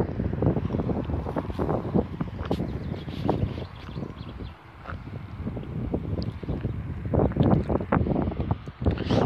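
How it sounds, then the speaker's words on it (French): Strong gusty wind buffets the microphone in uneven bursts, rough and loud, easing briefly midway before surging again. "Toujours autant de vent dans ce pays de merde."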